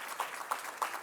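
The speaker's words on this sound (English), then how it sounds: "So please give them a round of applause" An audience at an opening plenary session of a summit applauds, a soft steady patter of many hands with a few louder individual claps standing out, heard at a moderate distance.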